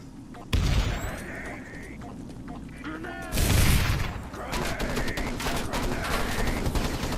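A charge explodes and blows open the front door in a multiplayer video game match, with two heavy booming blasts amid ongoing gunfire while a commentator talks.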